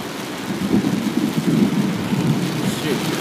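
A thunderstorm with heavy rain pours steadily on the road and surroundings, thunder rumbling deep and continuous beneath the dense hiss of rainfall, loud and close with no voices.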